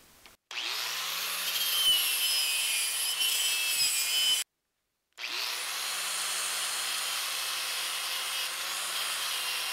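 A power tool scours grease off the pin of a sicklebar mower with a loud, steady abrasive whir. It runs in two long stretches separated by a brief silent pause.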